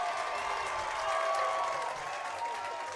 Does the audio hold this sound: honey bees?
no